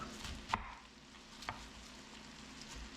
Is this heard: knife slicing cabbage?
yes